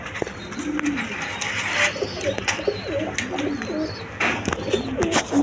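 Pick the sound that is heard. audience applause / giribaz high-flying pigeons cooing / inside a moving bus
giribaz high-flying pigeons cooing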